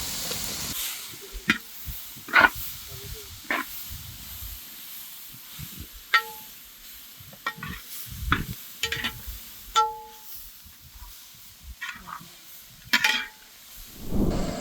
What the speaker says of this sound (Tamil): அப்படியே இதை கூட சேர்த்து எல்லாத்தையும் மிக்ஸ் பண்ணி விட்றோம்